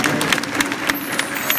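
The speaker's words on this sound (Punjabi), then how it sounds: "ਉਹਨਾਂ ਨੇ ਕਿਹਾ ਸੀ ਤਾਲੀਆਂ ਮਾਰਦੇ ਉਸ ਵੀਰ ਦੇ" Crowd applause at a live concert in Canada, a dense patter of many hands with a few sharper individual claps standing out, fairly loud and steady throughout.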